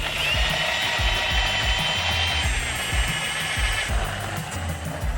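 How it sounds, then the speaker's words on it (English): Coffee beans are ground in a continuous close, gritty grinding with a steady rhythmic pulse, the crushing sound running throughout without speech. "that's how you grind coffee"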